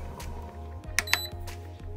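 A kitchen timer is set while an okra and beef stew cooks down on the stove, giving two sharp, bright electronic beeps in quick succession over a low steady hum and a few soft clicks.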